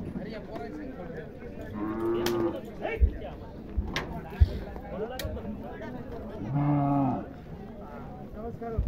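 A calf at a village horse and bullock race ground gives two clear drawn-out moos, close by, between scattered thumps and knocks, with people chatting in the background.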